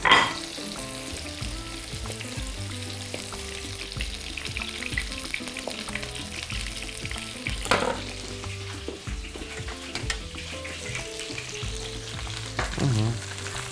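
Beef ribs brown in a frying pan with a steady oily sizzle and occasional scraping stirs and clatters, close and fairly quiet, with no voices.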